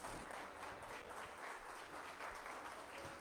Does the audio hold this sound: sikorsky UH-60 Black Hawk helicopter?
no